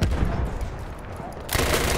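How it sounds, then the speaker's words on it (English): Rapid automatic bursts from the Annihilator submachine gun in Battlefield 1, a dense stream of close shots that briefly swells louder near the end, with battlefield noise behind. "This gun, I love the way it fires."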